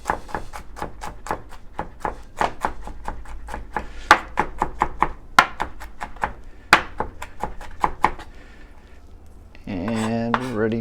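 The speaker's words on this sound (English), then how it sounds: "just give it a nice mincing" Knife mincing ingredients for chili on a cutting board: a rapid run of sharp, close chopping taps, loud and steady, ending in a brief pause, then a short voiced sound at the close.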